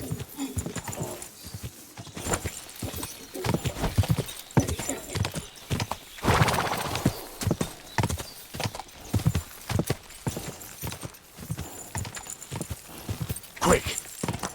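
Horse hooves clip-clop at a gallop in the medieval game Kingdom Come: Deliverance 2, a rapid steady beat running throughout, with a whinny and voices talking over it.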